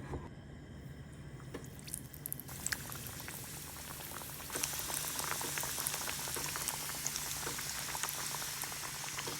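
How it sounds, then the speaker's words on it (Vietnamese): Dumplings fry in a pan of gently bubbling hot oil, a dense, continuous sizzle and crackle that grows louder partway through, close up with no talk. "Mình bắt lên bếp một cái chảo dầu sôi tăm nhẹ, mình thả bánh vào."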